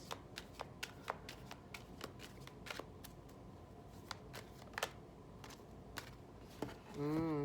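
Numerology guidance cards being shuffled, a quiet run of crisp, irregular riffling snaps, ending in a brief rustle as the deck is handled.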